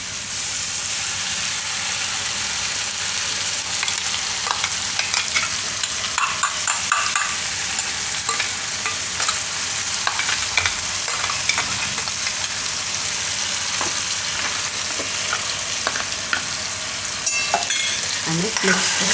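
Spice masala for Maggi frying in hot oil gives off a steady, close sizzle, with a spoon scraping and stirring through the pan at irregular intervals.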